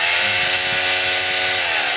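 A DeWalt D25033 rotary hammer runs continuously, loud and close, with a steady motor whine and a buzzing hammering rasp throughout.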